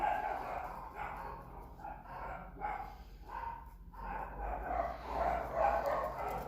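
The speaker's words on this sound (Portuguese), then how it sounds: "os cachorros são na rua" Dogs bark out in the street, heard faintly and muffled from indoors, with repeated broad barks rising and falling over a low background hum.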